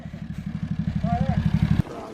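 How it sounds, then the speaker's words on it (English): A Polaris engine idling in a rapid, even chugging pulse, fairly close and loud, cutting off abruptly near the end while a voice talks over it. "Go drive the Polaris."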